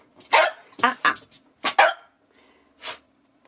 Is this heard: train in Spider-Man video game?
no